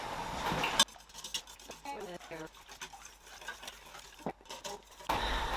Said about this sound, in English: And then all you want to do is whisk.